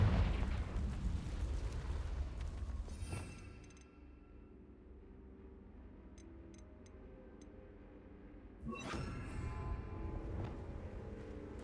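The Confringo fire spell in the video game Hogwarts Legacy bursts twice, each a sharp, loud blast followed by a rumbling tail, with a quieter stretch and faint ticking between them.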